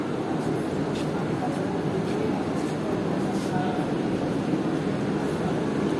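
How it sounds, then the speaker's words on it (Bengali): Local train pulling out of Sealdah station: a steady, loud broadband rumble and rattle of rail cars rolling past, continuous throughout with faint voices mixed in. "লোকাল ট্রেন ছেড়ে যাচ্ছে দেখতে পাচ্ছ তোমরা"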